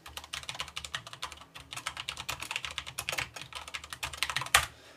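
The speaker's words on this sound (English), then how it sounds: "When you type with it, it sounds something like this." Rapid, clattery keystrokes on a mechanical keyboard, steady and close, with a louder clack near the end and no talking.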